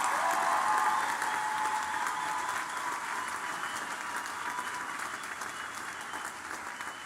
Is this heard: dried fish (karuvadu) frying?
no